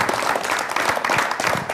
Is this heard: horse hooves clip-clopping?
no